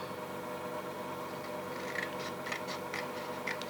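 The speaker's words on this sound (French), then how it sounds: "je prends plus facilement les ciseaux" Scissors snipping small strips of paper for a scrapbook book box, a few faint crisp cuts in a quiet room, spaced about half a second apart near the end.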